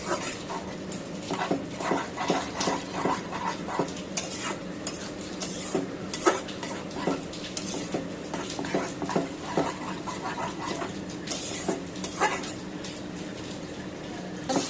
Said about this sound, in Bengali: নাড়া দিয়ে দেবো। কষানো হয়ে গেছে।